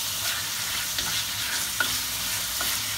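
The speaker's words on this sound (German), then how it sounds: "Jetzt braten wir unser Hühnchen erstmal ein bisschen an." Chicken pieces sizzle and fry steadily in a hot wok for wraps, with a constant broadband hiss and occasional soft clicks of stirring; no voices.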